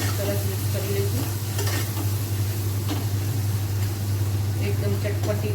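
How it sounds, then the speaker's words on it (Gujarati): Spices stirred and frying in a pan for gawar dhokli, with black cumin and turmeric added; a steady sizzle runs throughout with soft scraping stirs over a constant low hum from the stove. "બરાબર હલાવી લઈશું. બધું સરસ મિક્સ કરી લઈશું."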